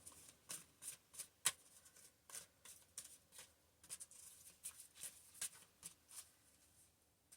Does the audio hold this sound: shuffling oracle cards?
yes